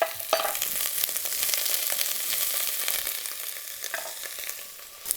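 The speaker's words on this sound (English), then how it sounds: "these have been frying away for about 10 minutes now" Steady, loud sizzling and crackling of cauliflower frying in a hot pan for about 10 minutes, with occasional scraping as it's moved around, no voices.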